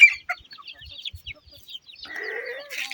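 Gurk chickens cluck in short scattered bursts around chicks, followed by a longer drawn-out squawk near the end, close by.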